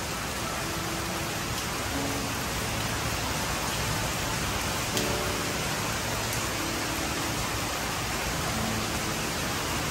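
Heavy rain pours down on a flooding street in Arlington, Texas, a dense, constant hiss of water that stays loud and unbroken throughout, with no voices.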